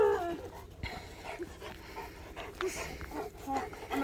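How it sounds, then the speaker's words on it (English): A dog pants rapidly and lets out small whimpers, close by, with scuffling and a person's voice talking intermittently over it. "you're a bad dog"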